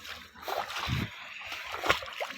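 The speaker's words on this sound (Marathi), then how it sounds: "मित्रांनो आता पाण्यातून जावं लागतं" Water splashing as someone wades through it in a village setting, a few irregular sloshing bursts close by, with a brief louder splash near the middle.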